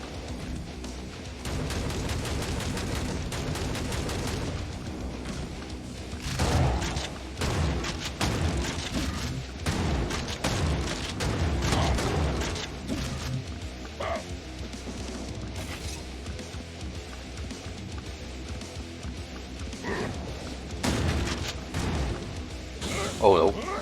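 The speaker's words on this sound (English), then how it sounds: "Triple shotgun." Triple shotgun firing in the video game Hellbound, heard as repeated heavy booming blasts scattered through dense, continuous game noise.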